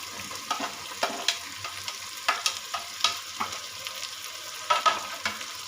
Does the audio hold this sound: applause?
no